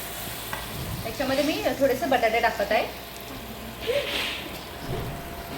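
Ingredients for Puneri misal being stirred and sautéed in a pan, with a soft sizzle and scraping stirs. A brief tonal voice rises over the cooking in the middle.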